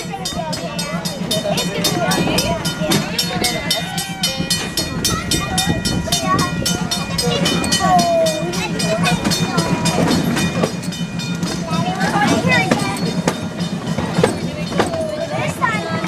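A miniature park train rumbles steadily along the rails with a rhythmic clatter, under continuous talk and background music throughout.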